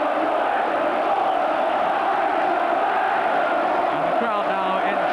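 At Ayresome Park, a football crowd at a Middlesbrough v Aston Villa cup match roars in a steady, loud, unbroken wall of cheering and chanting.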